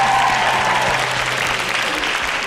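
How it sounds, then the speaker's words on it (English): A school audience gives a singer a nice round of applause at a master session at Stuyvesant High School, sustained, fairly loud clapping from many hands with a low steady hum beneath it. "Let's have a nice round of applause."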